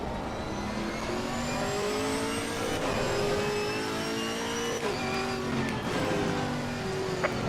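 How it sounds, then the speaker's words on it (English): Racing car engines in Assetto Corsa Competizione GT4 cars whine and rev steadily, with gear shifts and rising pitch, a continuous loud engine drone throughout. "Can you guys hear the cars okay? Or hear my car at least?"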